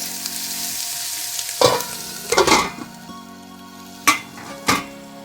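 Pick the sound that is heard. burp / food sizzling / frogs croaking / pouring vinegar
food sizzling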